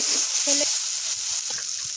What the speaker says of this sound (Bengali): খুব ভালো করে কষিয়ে নিয়েছি